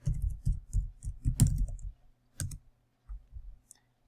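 Fingers tapping out a short phrase on a computer keyboard: a quick burst of close, crisp key clicks for about two seconds, then a few isolated taps and a final keystroke after pauses, in a quiet room with no talking.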